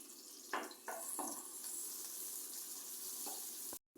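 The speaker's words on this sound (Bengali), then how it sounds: "এখন পেঁয়াজগুলো দিয়ে কিছুক্ষণ ভেজে নিব।" Onions fry in hot oil in a frying pan, giving a soft, continuous sizzle with a few small stirring clatters, fairly quiet and cut off by a short gap near the end.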